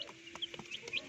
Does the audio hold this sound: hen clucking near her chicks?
yes